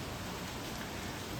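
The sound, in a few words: rain falling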